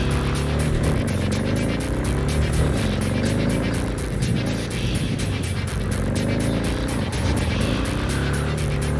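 A car driven hard in the video game Cyberpunk 2077, its engine roaring loud and continuous with rising and falling revs and rhythmic throbbing throughout.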